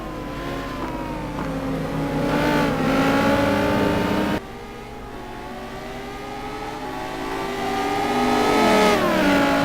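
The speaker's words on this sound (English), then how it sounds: "Oh, McLaren goes wide again. Judd White is through." GT race car engines in a simGT sim racing game at Spa, loud close revving that climbs through gears with abrupt shifts, a sharp drop, then another rising acceleration, heard without any voice.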